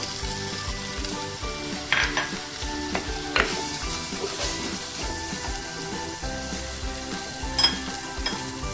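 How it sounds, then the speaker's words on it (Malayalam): Chopped tomato sizzling into frying onions in a pan for Kerala-style fish curry, a moderate steady sizzle with scraping stirs and a few sharp utensil knocks against the pan. "ഉള്ളി ആയിട്ടുണ്ട് അതിലേക്ക് നമുക്കിനി അരിഞ്ഞു വെച്ചിരിക്കുന്ന ഒരു ടൊമാറ്റോ ഇട്ട് കൊടുക്കുകയാണ്"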